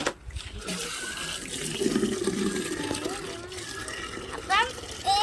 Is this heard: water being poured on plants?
yes